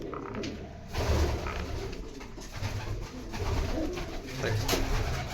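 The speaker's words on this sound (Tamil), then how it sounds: "எத்தனை புறா பறக்குங்க பாருங்க பாருங்க இதில் பாருங்க" Pigeons cooing in a garden, soft low throaty coos that repeat several times close by, with someone talking over them and the flutter of wings in flight.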